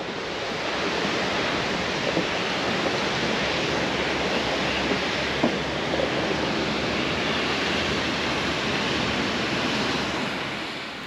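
River on Madeira's north coast near Seixal, running high after rain in the mountains, a steady broad rush of flowing water, loud and continuous with no voices.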